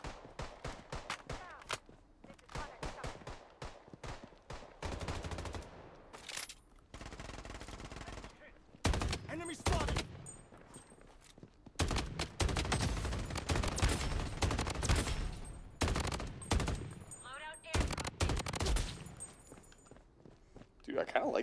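Rapid bursts of machine gun fire crackle through a zombie battle royale video game firefight, loud repeated volleys alternating with short gaps, with players talking over and between the shots.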